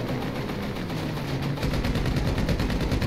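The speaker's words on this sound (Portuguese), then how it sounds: "os caras estão atirando em mim" Gunfire in the video game GTA V Online, a steady stream of rapid machine-gun bursts at moderate level, continuous throughout with the shots growing denser toward the end.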